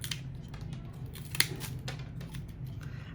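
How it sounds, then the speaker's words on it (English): Scissors make one crisp snip while trimming fresh flower stems at an angle for a floral arrangement, heard midway over a steady low room hum with no talk. "you want to recut your stems on your flowers, making sure they're all at an angle, and just a tiny little trim off the bottom"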